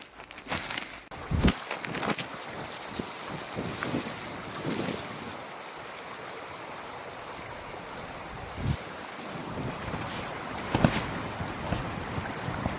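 Strong gusts of wind roar and buffet against a 3F UL Gear Zhengtu 1 tent, with loud flapping thumps of fabric rising and falling continuously throughout.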